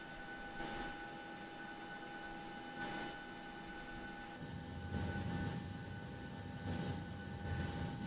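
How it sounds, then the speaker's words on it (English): A Ryanair aircraft's auxiliary power unit spins up in a steady, faint mechanical hum with a constant whine. Partway through, the tone drops lower and heavier, with slow pulsing surges. "APU's just starting nicely there"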